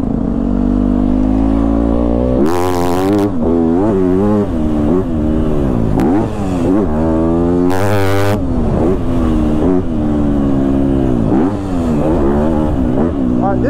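A Yamaha YZ250F four-stroke dirt bike engine roars loud and close while riding, revving up and down in repeated rising and falling pulls, with a speaking voice over the engine noise.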